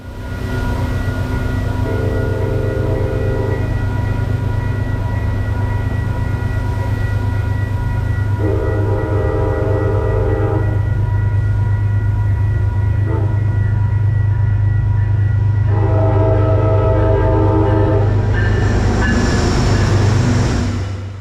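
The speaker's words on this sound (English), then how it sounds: "a quick-paced run to catch Conrail 201 leading train 1830 over Commerce Street" Conrail locomotive 201 leads train 1830 past at close range over a street crossing, a loud steady rumble of engine and wheels with three long horn blasts sounding at intervals.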